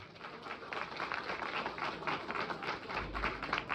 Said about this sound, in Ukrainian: сьогодні ви подаруєте найгарячіші, найщиріші оплески на адресу наших артистів